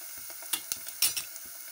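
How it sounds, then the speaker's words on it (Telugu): Chopped onions and green chillies fry in a pan for a drumstick and tomato curry, giving a soft, steady sizzle broken by a few sharp clicks and scrapes of stirring. "పచ్చిమిరపకాయలు కూడా చాలా బాగా ఎగిని"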